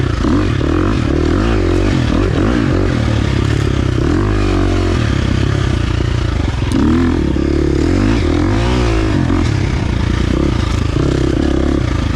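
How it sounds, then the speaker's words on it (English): A 2023 KTM 350 XC-F dirt bike engine rumbles steadily and loudly, its pitch dipping and rising as the rider rolls off the throttle for engine braking, with gravel clatter underneath. "Engine braking is just enough."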